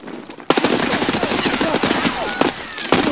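Rapid machine-gun fire in a multiplayer shooter game starts abruptly and continues as dense bursts of loud, near shots, with several sharper cracks along the way and a voice partly beneath the gunfire.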